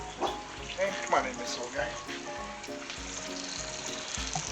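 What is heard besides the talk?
pork frying in a deep fryer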